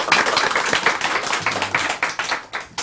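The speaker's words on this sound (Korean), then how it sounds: "박수 한번 주세요." A small studio group claps for a guest on a Korean political talk show, brisk uneven hand claps close to the microphone, continuing steadily for a few seconds with no talk.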